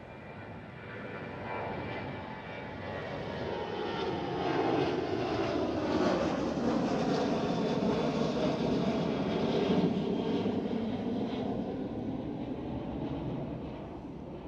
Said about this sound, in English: we do have a departure, KLM 737.